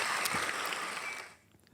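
A small group of podcast hosts claps briefly in a room, a short burst of close, moderate applause that fades out after a second or so.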